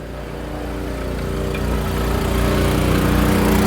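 Steady low engine rumble from a 2004 Neon SRT-4 with a big turbo and a Thermal R&D muffler, smooth and moderately loud, rising slightly in level as it continues, no talking.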